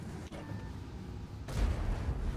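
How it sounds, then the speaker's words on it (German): A tank cannon fires in a World of Tanks-style game, a single deep boom with a sharp rumbling blast near the midpoint that follows a quieter muffled engine bed. "So, erster Schuss auf den E100."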